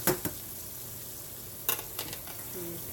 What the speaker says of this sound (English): I'm just gonna let these continue to fry.